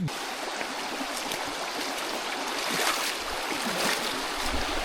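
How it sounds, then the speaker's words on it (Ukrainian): River water rushing steadily as hikers wade across it in wild mountains, a continuous broad hiss of flowing water with some splashing, fairly close and without voices. "Переходимо річку."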